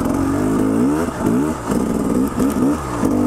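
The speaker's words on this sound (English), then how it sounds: "just lugging it like this in first gear." KTM 300 XCW two-stroke dirt bike lugging in first gear on a steep climb, a steady low, chugging engine note with wavering pitch as the revs rise and dip, close and loud with no talk.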